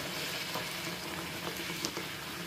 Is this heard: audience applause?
no